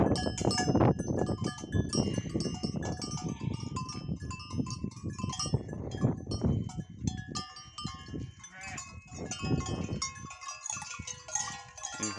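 A flock of sheep and lambs bleats over and over, close and loud, with bell clinks and some brief talk in the background.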